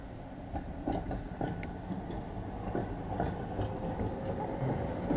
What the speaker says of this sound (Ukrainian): Трамвайчики їздять, все хорошо.